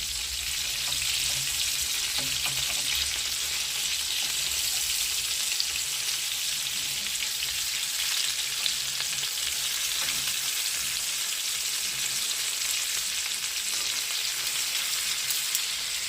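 Buckwheat patties (hrechanyky) frying in a pan give off a loud, unbroken hiss and sizzle that holds steady the whole time, close by and with no voices.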